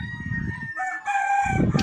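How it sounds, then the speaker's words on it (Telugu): Roosters seated for sale at a market crow loudly in long, drawn-out, overlapping calls close by, with a clucking bird and busy market noise around them. "పుంజులు పేటలో కూర్చోబెట్టి ఉన్నారన్నమాట"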